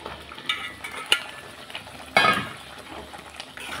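Pointed gourd and potatoes tossed into a hot pan with salt and spices, giving a soft, sizzling fry with a few sharp clattering bursts as the pieces drop in and get stirred, close and alone.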